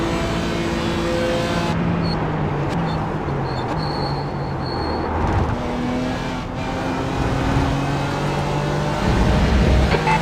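Racing engines in the iRacing sim at Road Atlanta, including a Nissan V8 in LMP3 cars, drone steadily throughout with shifting pitches as cars accelerate and pass, loud and continuous with no talk.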